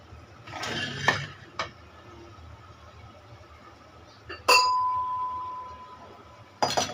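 A lid is set on a cooking pot in a home kitchen, with scattered clinks and clanks of pots and dishes, a few sharp metallic hits with brief ringing tails over quiet background.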